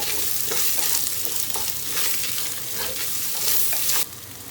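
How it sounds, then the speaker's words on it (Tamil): Carrots and potatoes fry in a pan and get stirred, with steady loud sizzling and repeated scraping strokes throughout, briefly dropping in level near the end. "ஸோ நம்ம எடுத்து வச்சுருக்க கேரட்டும் உருளைக்கிழங்கும் ஆட் பண்ணுறேன்"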